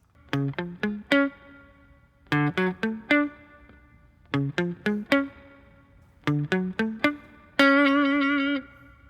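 An electric guitar plays a repeated riff from a song, quick plucked notes in short groups, ending on a sustained ringing chord, with clear pauses between phrases.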